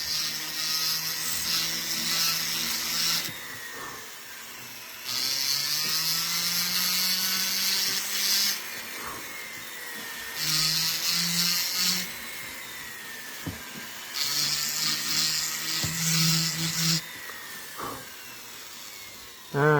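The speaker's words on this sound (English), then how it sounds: "The bigger the burr you use, the cleaner your cut." A rotary burr grinds into metal while a bezel shot die is carved, coming in several sustained high whining bursts of a few seconds each, separated by quieter pauses with low machine hum.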